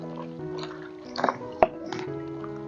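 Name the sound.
washing yard-long beans in water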